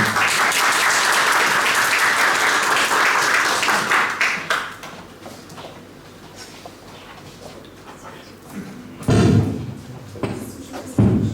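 Audience at a national science-communication final applauding as a presenter is called up: loud, dense clapping that dies away after about four seconds, leaving quiet room noise, then a few heavy thuds and scattered sounds near the end.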